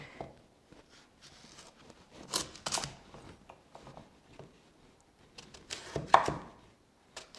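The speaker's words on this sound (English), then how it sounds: "So I'm going to cut them up like carrots" Knife chopping vegetables on a cutting board in a home kitchen, scattered crisp cuts with short bursts of quick strokes and pauses between, close and fairly quiet.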